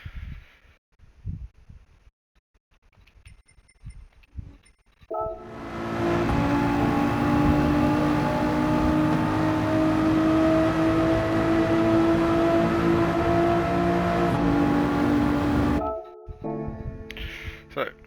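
Race car engine in Gran Turismo 7 roaring at full throttle with a steady sustained tone for about ten seconds, loud and close, starting abruptly and cutting off sharply, with quieter sounds before and after.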